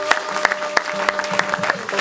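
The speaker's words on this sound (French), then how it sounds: "On acclame encore très fort pour notre Dieu." A church convention congregation claps loudly and steadily for God, with sharp, dense applause close by and a voice speaking over it.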